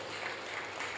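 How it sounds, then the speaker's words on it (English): An audience applauds at a technologists' conference in Lagos, a dense and steady wash of clapping that stays loud through the whole brief moment. "A round of applause"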